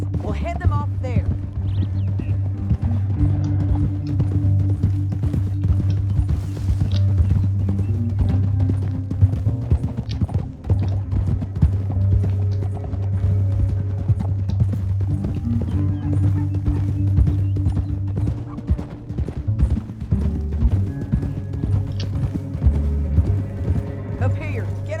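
Horses galloping with rapid, steady hoofbeats on open ground in the video game Red Dead Redemption 2, loud and close, with characters talking over the drumming of hooves and a background score.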